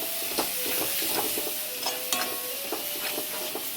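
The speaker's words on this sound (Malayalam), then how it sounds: "ഇനി ഇതിൻ്റെ പച്ചമണം പോകുന്ന സമയം വരെ ഒന്ന് വഴറ്റിയെടുക്കണം" Ginger garlic paste sautéing in a pan for a chicken biryani, giving a steady close sizzle with scattered scraping and stirring clicks throughout, no voices.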